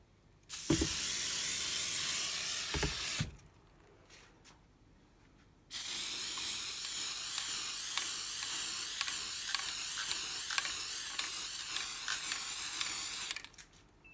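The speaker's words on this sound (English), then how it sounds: "so I'm only spraying this top section" Two bursts of close aerosol spray paint on plastic drawer tops, a steady hiss for a few seconds, a pause, then a longer hissing spray that pulses slightly before stopping.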